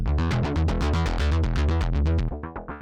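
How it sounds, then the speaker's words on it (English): A Korg KingKORG Neo synthesizer with distortion drive plays a rhythmic sequence of bright, buzzing notes, gritty, loud and continuous, with no voices. "So we've already got some distortion on there."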